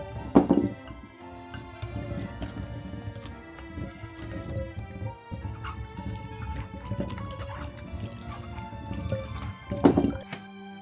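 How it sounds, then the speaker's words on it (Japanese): Japanese ume plums being gently washed by hand in water, with soft sloshing and dripping splashes throughout and a couple of louder splashes near the start and end. "梅は水で優しく洗います。"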